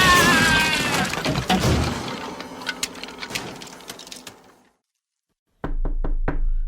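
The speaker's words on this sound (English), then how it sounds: "You can stop knocking on the door now." Knuckles rapping on a wooden door in an old house, an irregular series of sharp knocks over a fading musical piano backdrop, then silence before three final close, distinct knocks.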